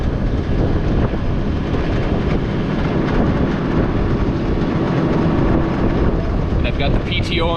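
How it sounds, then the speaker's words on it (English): A tractor's PTO drives a bagging wagon while third-crop hay is bagged on a windy farm, a steady loud mechanical drone with rumble and wind buffeting throughout. "PTO engaged on the wagon now."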